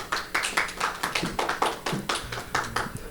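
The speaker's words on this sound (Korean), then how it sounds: "박수로 맞이해 주시면 감사하겠습니다." Forum audience at an ESG conference panel clapping to welcome a speaker, a small group of sparse, distinct claps in an uneven rhythm, close and clear with no talk.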